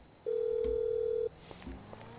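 A steady electronic phone tone sounds for about a second while dialing a taxi in GTA V, followed by faint clicks and quieter tones.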